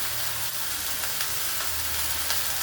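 Washed chickpea greens sauté in a pan in a home kitchen, a steady close sizzle and hiss with faint stirring scrapes, with no talk.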